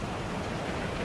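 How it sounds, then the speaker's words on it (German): Steady, even hiss of rain in the video game Beyond: Two Souls filling the whole moment, a soft continuous wash with no voices or distinct drops standing out. "Es ist kalt, es regnet"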